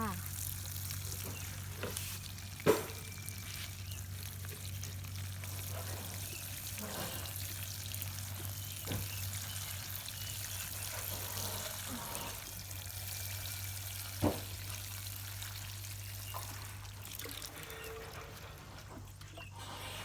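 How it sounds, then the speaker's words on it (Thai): Water poured onto potted caladium plants, a soft trickling and splashing under a steady low hum, with a few brief knocks and someone talking faintly now and then. "รดน้ำให้ชุ่มแบบนี้เลยค่ะ"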